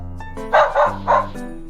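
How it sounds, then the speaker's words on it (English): A domestic dog gives three quick, fairly loud barks in close succession over a soft steady musical background. "Dog,"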